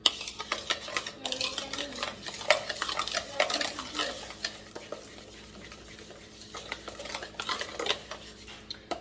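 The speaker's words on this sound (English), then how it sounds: "I'm gonna stir that into the butter and the sugar" Pumpkin is stirred into vegan butter and sugar in a bowl, an irregular run of close scraping and clattering utensil strokes against the dish, steady and unaccompanied by speech.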